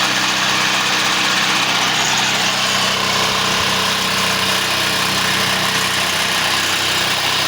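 A gasoline generator converted to run without fuel drones continuously, a loud, even engine hum with a steady buzzing whine and no voices over it.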